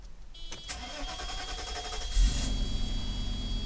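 A classic 1990s hot rod with fresh gas in the tank cranks briefly and then fires up, settling into a steady, close engine idle that carries on to the end.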